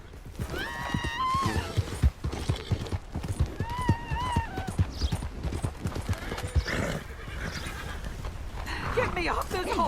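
Horse hooves clip-clopping at a gallop with a whinnying neigh, from the Western video game Red Dead Redemption, steady hoofbeats running throughout under shouting voices.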